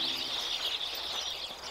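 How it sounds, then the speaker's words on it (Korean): Birdsong in the fantasy video game Yonder: The Cloud Catcher Chronicles, a dense steady chorus of high chirping that fills the whole moment without a break. "어우 새소리 시끄러운 거 봐."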